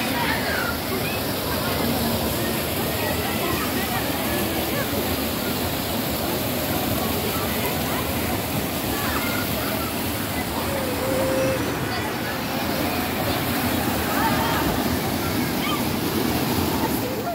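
Pure spring water flowing from a small spring near a zawiya, a steady close rush and splash of running water continuing throughout, with a voice talking over it.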